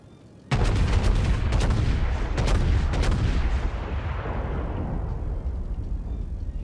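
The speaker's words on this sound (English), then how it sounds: "I will be able to get a full broadside onto him as soon as I can get a firing solution on him." A broadside from the USS Texas battleship's main guns in the World of Warships naval game: a sudden loud salvo of several overlapping booming shots, with a long rumbling roar that slowly trails off, and no talking.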